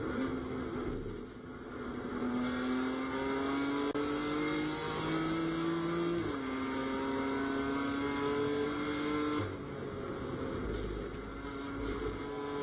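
A BMW GT4 race car accelerates hard past a Mercedes during GT4 International Cup qualifying in Bahrain, its engine note climbing through gears in a loud, sustained drone with no talking.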